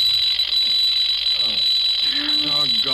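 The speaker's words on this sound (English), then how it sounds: "Alarm clock suddenly goes off." A shrill, continuous alarm clock ring in an old radio drama sounds steadily throughout, while voices talk over it.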